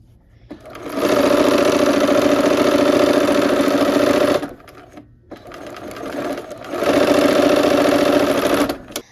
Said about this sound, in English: We'll sew down this side and sew down the other side too.